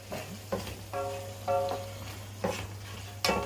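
Green peppers frying in a pan for Alexandrian-style liver, stirred with intermittent scraping strokes and clinks over a steady background hum and faint sizzle.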